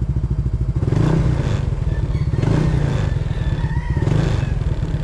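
A Yamaha Mio MXi 125 scooter idles after a cold start, its quiet exhaust putting out a steady low chugging pulse with brief revs that swell and fall, close by and alone.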